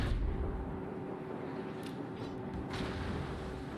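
Heavy battleship shell fire from the Kremlin in World of Warships: a dense, continuous rumble with a few sharp cracks and booms rising out of it, steady and fairly loud throughout.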